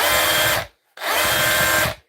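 A hammer drill switched to plain rotation mode, on a repair bench, whirs loudly in two steady bursts of roughly a second each, separated by a brief pause, close and with no voices.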